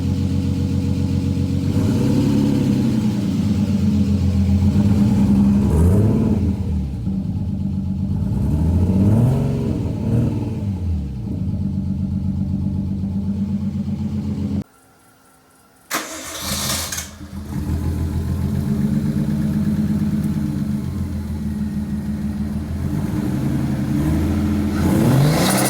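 An RB-engined Nissan Skyline R30 drift car, still running a bit rough, cranks over and fires, then revs repeatedly in rising and falling sweeps, briefly cuts out and restarts, settling into a loud, close idle with further blips.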